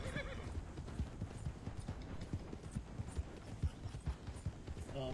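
Hooves clip-clop at a steady gallop in Red Dead Redemption 2, a fast rhythmic beat with a brief neigh near the start, moderately close and carrying on alone throughout.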